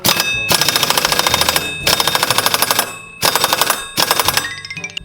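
A pneumatic impact gun hammers a motorcycle final drive bolt tight in several loud, rapid rattling bursts separated by short pauses, close up, with no speech.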